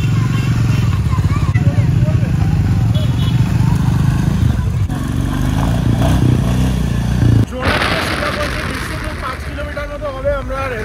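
A motorcycle is wheeled and ridden out of a parking spot on a monsoon trip around Ranchi. A low engine rumble runs throughout, with a sudden shift partway through, while people talk over it.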